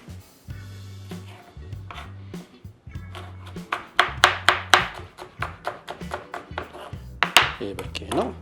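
A knife chops chili peppers on a board, with quick, close, sharp taps coming in bursts of rapid strokes amid low humming voices.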